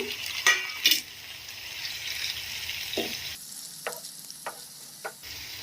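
Chopped tomato tipped onto fried onions in a pan, a couple of sharp clatters as it lands, then a steady close sizzle with a few light taps of a stirring spoon.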